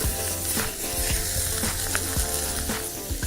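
A steak lowered into molten salt gives a loud, steady sizzle with sharp crackles and pops that keep going for the whole stretch, with no voices.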